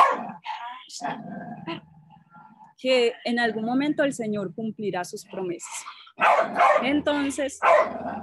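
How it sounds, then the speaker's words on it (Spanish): A dog barks around a house, mixed in with and partly masked by someone speaking in Spanish, with the sharper bursts standing out near the end. "un perro me ha atacado la casa"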